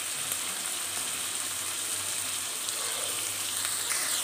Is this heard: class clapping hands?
no